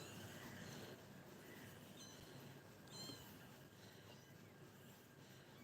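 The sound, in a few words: cat meowing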